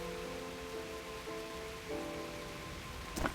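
Steady rain patters in the Blade and Soul game world, a soft, even hiss running throughout beneath faint sustained musical tones, with a brief louder splash near the end.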